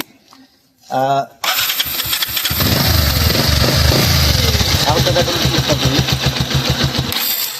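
A new Bajaj Pulsar motorcycle engine cranks and catches, then settles into a loud, steady rumbling idle close by, cutting off abruptly near the end.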